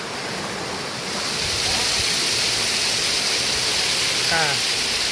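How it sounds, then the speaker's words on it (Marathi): A small mountain waterfall rushes in a steady, close, loud hiss of falling water, swelling slightly after the first second, with a faint voice briefly audible over it. "बघा इथं बारका असा धबधबा"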